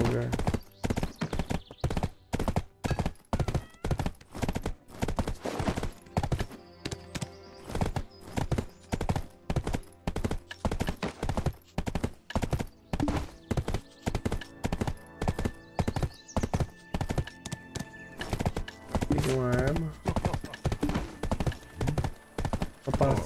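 Horse hooves clip-clop in steady, rapid rhythm through the Black Desert game, loud and continuous, with a brief whinny near the end and players' voices talking over it.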